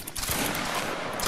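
A volley of musket fire goes off on command during grenadier line training in a video game, heard as a dense, loud burst of overlapping gunshots that rolls on without pause.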